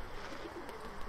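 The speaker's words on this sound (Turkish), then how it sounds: "Böyle bir güvercin bu arkadaşlar." Soft cooing of a Sivas game pigeon in a long coop, faint and low against a steady background hum, with no talk.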